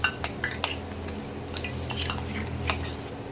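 Fish roe fritter batter with Kashmiri chili powder being mixed in a bowl, a few light clinks of a spoon against the dish over a steady low hum, close and soft, no voices.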